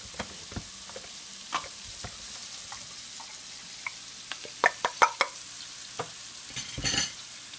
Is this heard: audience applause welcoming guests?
no